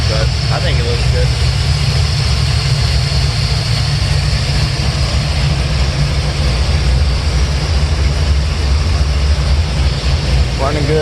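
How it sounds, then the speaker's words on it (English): A 1972 Chevrolet Chevelle engine runs steadily with a deep, continuous rumble that stays loud and close throughout, without clear rises in pitch. "Running good, rev's good."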